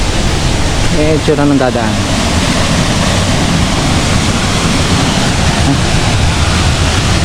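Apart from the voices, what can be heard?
Talay Falls waterfall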